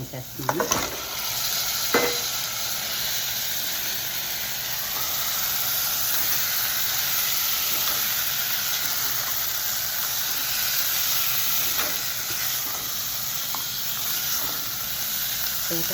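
Crabs dropped into sizzling masala in a pan, with a steady hiss of frying and steam and a few clatters near the start and scattered later, without speech.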